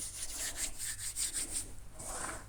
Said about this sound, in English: if you get some stuck on your hand like this, you can get a bit of the dry flour out and rub it in.